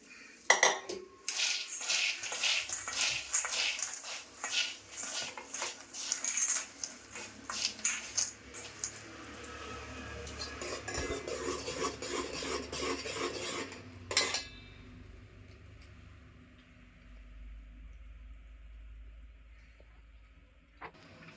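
Sesame seeds and peanuts mixed into thick, bubbling jaggery syrup in a pan, with busy scraping and clinking of a spoon against metal for about fourteen seconds, then a quieter low rumble.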